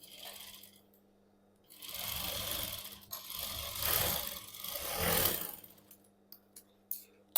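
A sewing machine stitches part of a princess-cut blouse, running in a steady mechanical whir for a few seconds with a brief pause, then stopping into a few scattered clicks, close and moderately quiet.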